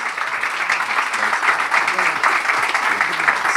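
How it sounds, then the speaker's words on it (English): Audience applause at a film trailer launch event for the film 800, a steady, dense round of clapping from a crowd filling the room at even loudness throughout. "A big round of applause, ladies and gentlemen."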